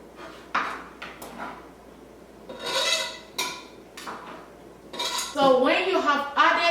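Ginger dropped into a cooking pot while preparing an immune-boosting drink, giving a run of clinks and scrapes of utensils against metal, with a louder clattering stretch near the end; some voice is faintly present.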